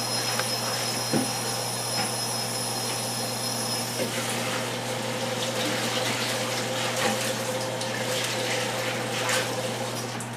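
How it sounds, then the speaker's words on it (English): Tap water runs steadily into a plastic container as it is rinsed and washed after draining meat grease, a continuous close splashing rush with a low hum underneath and occasional knocks. "I'm going to rinse out and wash out the container that I had drained the meat in"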